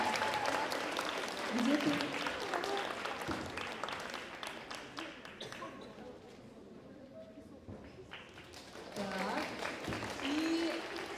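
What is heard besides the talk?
audience applause at an award ceremony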